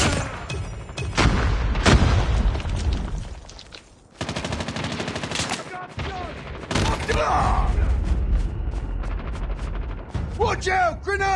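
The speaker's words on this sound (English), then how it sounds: "Watch out! Grenade!" Grenade blast and gunfire in a Call of Duty match, with loud bursts of shots, a sharp boom and mechanical clatter, heavy and close throughout, with a voice briefly heard amid the noise.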